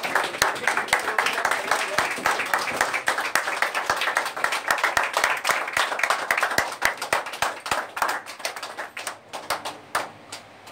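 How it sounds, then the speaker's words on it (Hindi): Seminar audience applauding as a speaker comes on stage: dense, continuous clapping from many hands with some sharper individual claps, sustained throughout and tapering slightly near the end. "जोरदार तालियां सर की।"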